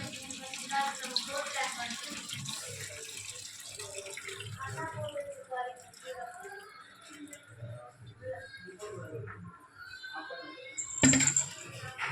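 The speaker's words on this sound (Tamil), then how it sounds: "தண்ணியை வடிகட்டிட்டு" Water runs and splashes as cooking water is drained off food in a home kitchen, a steady pouring wash with clinks of a pot, and a voice speaks briefly over it.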